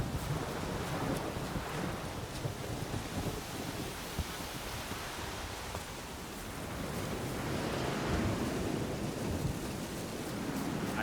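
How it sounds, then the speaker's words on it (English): Storm at sea in The Witcher 3: steady roaring wind and crashing waves, a dense, loud, continuous wash that swells and eases without a break. "A storm, damn it."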